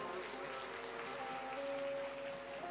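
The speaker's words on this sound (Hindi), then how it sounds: "एक बार इधर वालों के लिए जोरदार ताली बजा दो।" Sustained clapping from a large seated audience of mothers at a religious storytelling gathering, a steady dense wash with no pauses, drowned by no voices.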